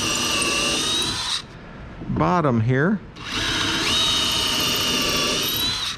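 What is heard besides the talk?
power drill drilling into wooden chest bottom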